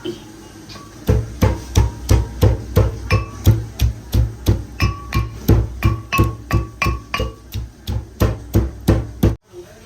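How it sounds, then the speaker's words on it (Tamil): Fennel, garlic, black pepper and ginger are pounded for a fish-fry masala, a steady series of about two dozen heavy, evenly spaced thuds, close and loud, with no talking. "மிளகும் இஞ்சி இதை நல்ல வடிவாக இடிப்போம்"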